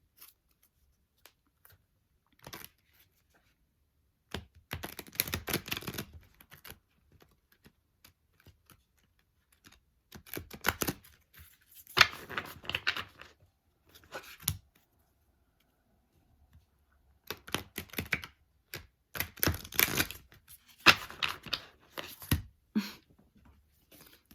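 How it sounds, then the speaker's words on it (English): Tarot cards being shuffled in repeated bursts of crisp riffling and flicking, close by, with short quiet pauses between rounds. "I'm gonna shuffle these."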